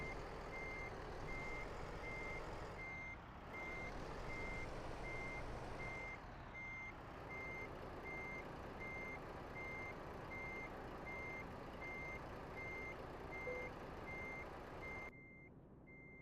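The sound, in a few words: truck reversing beeps while backing up to hitch trailer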